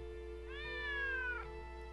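A single drawn-out cat meow in the Wonder Project J2 video game, clear and close, lasting about a second over a steady low background hum.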